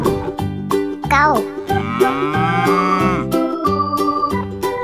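A cartoon cow lows in a children's animal painting video, with a drawn-out synthesized moo rising and wavering over bouncy tonal background music, loud and close.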